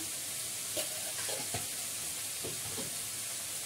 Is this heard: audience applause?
no